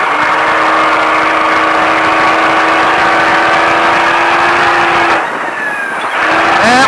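A Baja truck's engine roars loud and close at high speed on a Vegas course, holding a steady strained drone, then briefly dropping off before surging again near the end.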